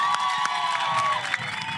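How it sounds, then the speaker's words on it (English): Cheering and applause from a large crowd of marchers at an outdoor anti-crime march, a steady broad roar with scattered whoops and claps, with a sustained whistle-like tone running through the first part. "give yourself a round of applause."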